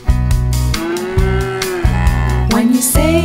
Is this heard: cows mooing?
yes